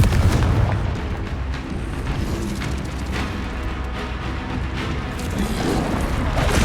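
The Confringo explosive spell in Hogwarts Legacy gives a dense, loud wall of rumbling blasts and booms, continuous and heavy from start to finish with no gaps.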